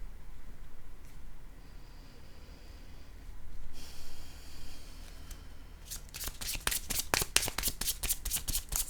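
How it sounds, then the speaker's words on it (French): Playing cards are handled and set down on a table: quiet shuffling and soft rustles at first, then a close run of rapid, crisp card clicks at the end. "Je vais déposer une carte sur le cycle."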